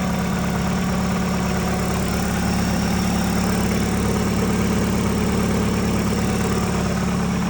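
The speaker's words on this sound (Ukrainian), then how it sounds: "двигун працює гарно, нема ніяких посторонніх звуків" A Daewoo Lanos car with a 1.6-litre engine idles steadily with a low, even rumble and slight vibration, close up and continuous, with no voices.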